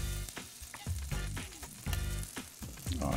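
Onions and tomatoes go into a pan with cooked sausage meat and sizzle loudly and steadily, with clattering stirring strokes on top, heard close up with no talk.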